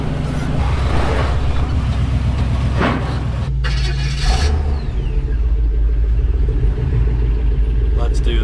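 A huge off-road wrecker truck crawls along the Rubicon Trail, its engine a steady low rumble throughout, with people talking over it and a brief dip in the noise partway through.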